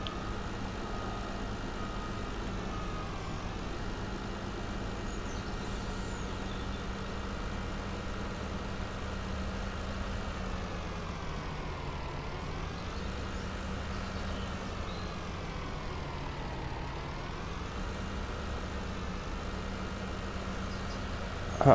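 Truck engine driving in the video game Farming Simulator 19, a steady low engine drone with a few gear-shift-like dips in pitch, continuous and fairly quiet, no talk.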